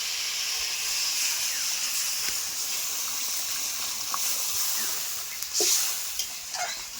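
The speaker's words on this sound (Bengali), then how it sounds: "মশলাটা দিয়ে একটু কষানো হয়ে গেছে আমি এটা জল দিয়ে দিচ্ছি" Water poured into spice paste frying in a pan for a fish curry gives a steady hiss and steam sizzle, with a few faint clinks and stirring sounds, no voices.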